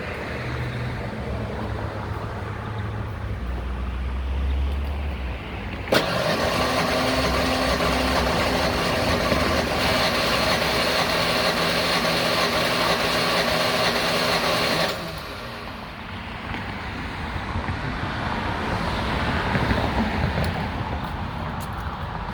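A Ford Ranger 3.0 engine cranks on the starter during a compression test, a long rhythmic churning lasting about nine seconds with a dead cylinder. Quieter handling noise comes before and after, and there is no speech.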